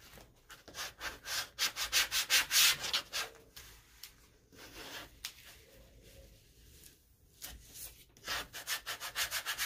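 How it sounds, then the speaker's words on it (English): A squeegee rubbing adhesive vinyl down onto a foam board, heard as close, rhythmic swishing strokes in quick repeated bursts with a brief pause midway. "My squeegee, wash down, pull as you go."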